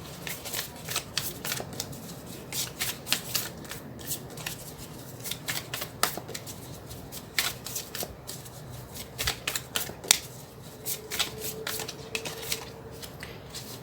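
Tarot cards being shuffled for a reading, a steady papery riffling and flicking that carries on for the whole stretch at moderate volume with no voices over it.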